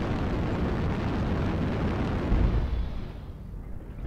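A target blowing up in a multiplayer air-combat video game: a loud, sustained rumbling blast with a deeper thump midway, slowly fading toward the end.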